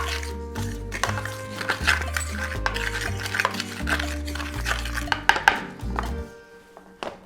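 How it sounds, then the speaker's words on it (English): Breadcrumbs and salt get stirred together in a shallow pan, a soft, uneven scraping and rustling at close range with a few light clinks of utensil on the pan. "And we're gonna mix that all up."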